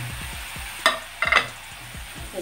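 A spoon scrapes and clinks against a pan as grated carrots and spices are stirred together for gajar paratha filling, with a light sizzle underneath and a few sharper metallic knocks.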